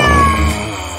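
A single short cat meow, clear and close, fading out over about a second.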